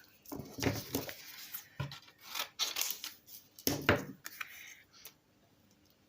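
Scissors snip through scraps of paper for an ATC background in several separate bursts of crisp, close cutting with short pauses between them and no talking.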